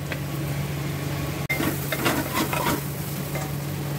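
Amchur powder is stirred into vegetables cooking in a pan, with a steady sizzle of frying and a sharp scrape or clack, then soft scraping stirs over a low constant hum.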